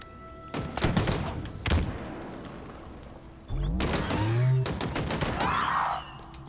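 Gunfire from the Halo Infinite video game comes as rapid bursts of automatic shots, then heavy single blasts and mechanical clanks, all loud and close.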